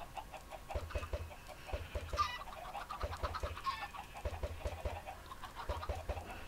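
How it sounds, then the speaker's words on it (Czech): Chickens in Minecraft cluck repeatedly in short, choppy bursts, fairly faint, with a few higher squawks mixed in and no talking. "a já jdu tady zabít slepičky, potřebuju peříčka"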